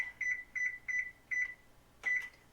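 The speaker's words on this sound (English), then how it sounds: "So you want to set your oven to bake to 425." An oven's control panel beeps five times as it is set to bake at 425, with short clear electronic tones at a steady pace, a slight pause before the last beep, in a quiet kitchen.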